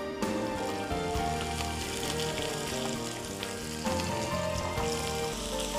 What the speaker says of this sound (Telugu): ఒక కప్పు ఉల్లిపాయలు వేసి వాటిని అలా అలా అలా ఫ్రై చేసేసుకోవాలి